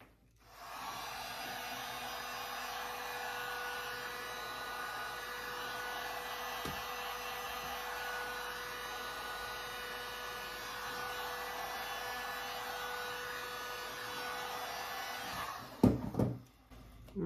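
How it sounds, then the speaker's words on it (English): A heat gun blows hot air over a dried acrylic paint pour skin, a steady loud whirring hiss that holds unbroken for about fifteen seconds before cutting off with a few clatters. "I'm going to heat the side up, and then you'll see it'll peel off like butter"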